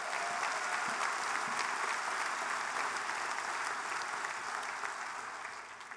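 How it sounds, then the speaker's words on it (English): Sustained applause from a large church congregation, steady dense clapping filling the space throughout, tapering slightly near the end. "Give the Lord a hand clap of praise."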